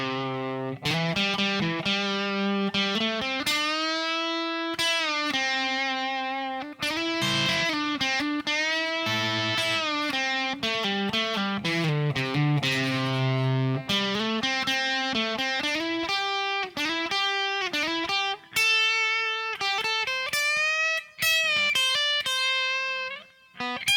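Overdriven electric guitar plays the album version of the solo: a continuous run of bent and sustained lead notes lasting over twenty seconds, loud and close with no voices.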